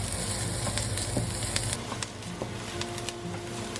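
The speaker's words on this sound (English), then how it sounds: "Add to the pot and give it a stir for about a minute." Four cloves of minced garlic sizzle in a pot while being stirred, with a dense crackle and scattered utensil taps that ease off partway through. No one speaks.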